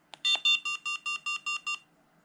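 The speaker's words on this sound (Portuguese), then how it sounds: "Esse som que ele fez bipando intermitente quer dizer que é assim que o som vai ser gerado" Aircotec flight variometer emitting eight evenly spaced, bright electronic beeps in quick succession, loud and close, followed by quiet.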